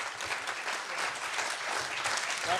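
A live audience at a story slam applauds steadily for a storyteller, a dense, even wash of clapping that holds at the same level throughout with no voices over it.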